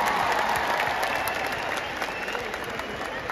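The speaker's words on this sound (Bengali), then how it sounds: "জোরে হাততালি চাইবো সবার কাছ থেকে।" An audience at a grand anniversary event applauds loudly, with dense, sustained clapping from a large crowd that slowly eases off toward the end.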